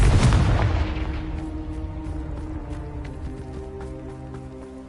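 A Confringo blasting spell detonates in Hogwarts Legacy, a loud close boom that rolls into a long decaying rumble with scattered debris crackles over several seconds.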